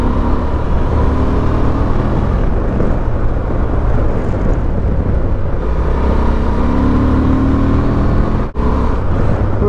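A Honda Transalp XL750 motorcycle with a 21-inch front wheel accelerates hard, the front wheel lifting, its engine a loud, sustained drone mixed with rushing wind, close and without talk, dipping briefly near the end.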